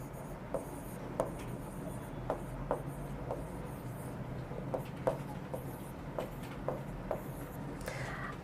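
A pen scratches answers onto paper while solving an English cloze-test board question: a series of short, soft strokes and taps at irregular intervals, faint and close over a steady low background hum, with no talking.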